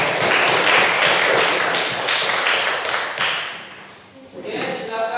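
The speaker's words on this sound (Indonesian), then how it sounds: "tepuk tangan buat" A burst of group applause from a school class, many hands clapping together fairly close, fading out after a few seconds.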